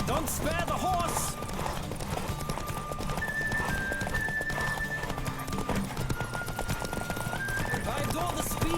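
Rapid clip-clop of galloping hooves with a horse whinny, steady and close, layered over constant music and game sound effects in The Witcher 3.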